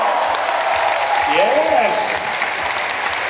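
Audience clapping at a product event in the Philippines, a steady wash of applause throughout with a voice calling out and brief cheering over it.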